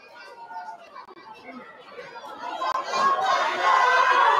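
Crowd on a hillside at a women's football match, scattered chatter and voices that swell louder and denser toward the end, with children's voices among them.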